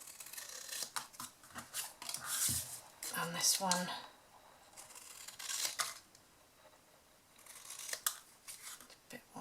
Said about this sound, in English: scissors, just cut this one down